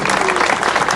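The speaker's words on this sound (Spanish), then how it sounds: "por un aplauso aquí para" Audience clapping at an outdoor public forum in San Cristóbal de Las Casas, Chiapas, a short dense burst of applause from a crowd, close and loud.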